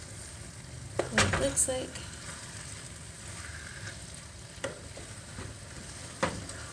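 Cauliflower Spanish rice frying in a pan gives a faint steady sizzle, with sharp scraping clicks as it is stirred at a few points and someone speaking briefly over it.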